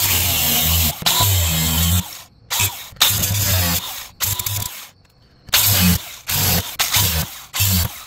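A power cutting tool trims the protruding self-tapping screw tips beneath a Jeep Grand Cherokee WJ, in loud, harsh bursts of about a second each, separated by short pauses.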